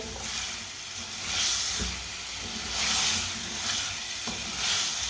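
Mixed vegetables frying in a pan over raised heat while a spoon stirs them, giving a steady hiss and sizzle that swells and fades in slow waves, with occasional soft scrapes and no talking.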